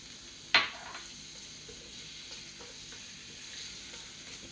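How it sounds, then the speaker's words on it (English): Garlic hits hot olive oil in a pan with a sharp close crackle, then settles into a quiet, steady sizzle for several seconds. "I'm going to put a little bit of olive oil into this hot pan. And then I'll put in some garlic, plenty of garlic."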